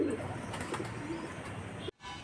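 Loft pigeons, one drinking water, give a soft low coo near the start amid quiet room noise, followed by a brief dropout near the end.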